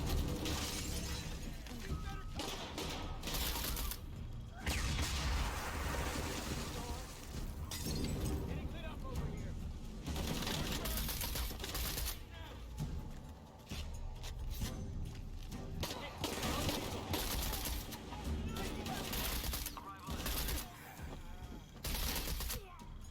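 Rifle gunfire in Shadow of the Tomb Raider, repeated sharp shots and bursts scattered throughout amid dense game noise, with someone talking over it.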